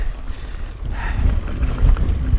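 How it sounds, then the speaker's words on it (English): Loud, steady wind buffeting the microphone with a constant low rumble and roar while mountain biking in Kansas, no voices. "It's too windy."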